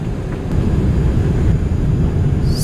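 Steady low roar of cabin noise aboard an ANA Boeing 787 airliner on approach to LAX, a constant dense rumble filling the whole clip with no talk.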